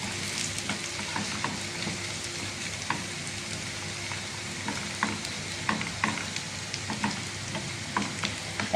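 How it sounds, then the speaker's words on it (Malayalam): Curry leaves and cut dried red chillies are stirred and roasted in oil for a lentil and taro curry, giving a soft, steady, rain-like sizzle with frequent small crackles and spoon taps. "കുറച്ച് കരിയേപ്പലയും കുറച്ച് വറ്റലമുളകും ഒരു നാല് വറ്റലമുളക് മുറിച്ചതും കൂടെ ഇട്ട് ഇളക്കി മൂപ്പിച്ചെടുക്കാം"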